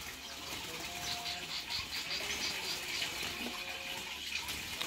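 Pintail whydahs in a small aviary chirp in quick, thin twitters over a steady wash of background noise, with light wing flutters mixed in.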